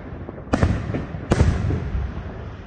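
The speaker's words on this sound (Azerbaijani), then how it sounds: "Şuşa'dan səslənən böyük atəşfəşanlıq idi" Fireworks at the Kharibulbul festival in Shusha: two sharp, loud bursts about a second apart, each trailing into crackling and rumbling echoes over a steady background din.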